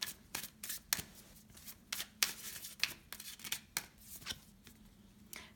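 Alchemist Oracle cards shuffled and drawn by hand, a run of brisk papery riffles and flicks with short pauses between them, close and fairly quiet with no talking.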